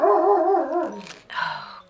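A dog barks loudly and close, a run of throaty barks followed by a sharper yelp after a brief pause, heard alone without talk.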